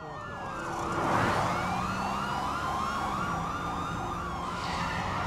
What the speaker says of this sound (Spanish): Cuando el hombre escuchó la sirena,